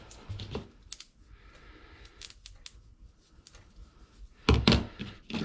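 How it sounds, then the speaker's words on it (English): Scissors snip off excess material around a saddlebag emblem on a 1976 Harley-Davidson Shovelhead, a few crisp close cuts with soft handling thumps between them and a louder cluster of snips near the end. "I'm going to cut that off."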